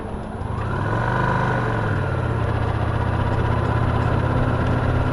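A Victory Cross Roads Classic LE motorcycle on the move, its engine holding a loud, steady drone with wind rush that stays constant throughout, close and unbroken.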